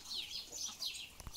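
Rhode Island Red chickens in a pen give faint, high clucks and chirps at a distance.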